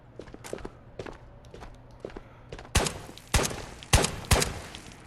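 In the video game Ghosts of Tabor, scattered gunshots crack at irregular intervals, quieter at first and then several loud, close bangs in quick succession, with soft thumps and footsteps in between.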